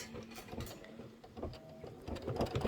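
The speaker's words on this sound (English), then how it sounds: "Now we're going to stitch this snow decorative outline." An embroidery machine stitches a decorative snow outline in white thread, a quiet, rapid clatter of needle strikes with faint ticking and uneven pulses throughout.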